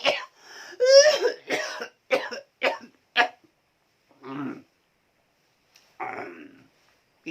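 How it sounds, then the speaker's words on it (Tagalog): A run of harsh, hacking coughs in quick bursts, then a few slower, heavier coughs after short pauses, close and loud. "Grabe ang ubo."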